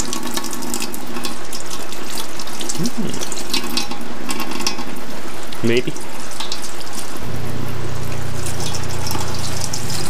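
Hot water runs steadily from a tap into a sink, fed by an 800 W water heater on 220V, a loud continuous splashing rush, with a brief word spoken over it.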